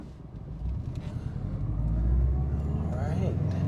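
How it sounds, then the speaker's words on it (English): A Subaru STI engine with a 20G turbo, front-mount intercooler and external wastegate drones steadily and rises in pitch as the turbo spools up while driving, with a faint whistling whine near the end. "we can really hear that turbo spool up"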